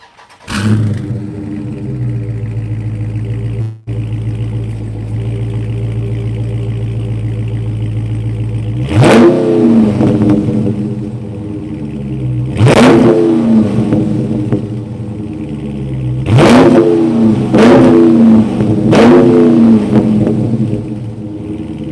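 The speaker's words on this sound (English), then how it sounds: "rev it a couple times for you" A 2020 Dodge Charger Scat Pack Widebody idles with a deep, steady rumble, then its engine is revved four times in sharp, loud bursts that spike and fall back to idle, heard close with no talking.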